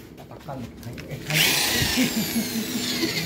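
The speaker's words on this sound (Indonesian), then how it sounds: "Nah, sekarang kita tinggal bor. Oke, kita bor dulu." A power drill whirs up after a short pause with some voice, then runs loud and steady during a clutch rubber replacement, its motor pitch wavering slightly as it bites in.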